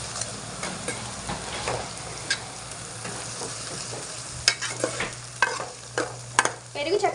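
Ginger sizzling in hot oil in a pan for a chicken curry, a steady close fry with intermittent stirring scrapes and utensil clicks growing busier toward the end.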